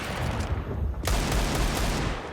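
Pistol gunfire in an esports shooter match at the Elisa-Esports semifinals: sharp, dense shots crackle in a steady stream with a sudden louder burst about midway, loud and continuous throughout.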